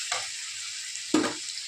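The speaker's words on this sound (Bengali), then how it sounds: "এখানে বাঁধাকপির জন্য সবজিগুলো ভাজা করে নিচ্ছি" Vegetables for a cabbage dish fry in a pan with a steady close sizzle, punctuated by two brief bursts of stirring.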